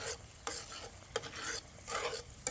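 Crushed San Marzano tomatoes are stirred in a pan over a medium flame, a close wet scraping and swishing in several strokes over a soft sizzle, with no talking.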